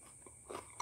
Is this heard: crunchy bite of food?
yes